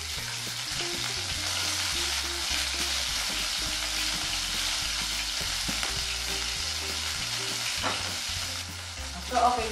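Chicken pieces sizzle and fry in a pan for chicken teriyaki, a loud, steady crackle up close with occasional stirring and scraping.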